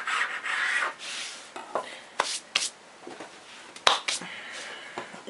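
A knife cuts through rolled-out cake dough about 3–4 mm thick, giving a soft scraping rasp and several short, sharp taps on the board. Close and fairly quiet, with no talk.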